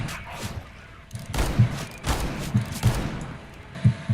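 Revolver pistol fire in the video game CS:GO comes as a quick run of loud, sharp shots with thuds between them, spread unevenly across a few seconds of busy gameplay.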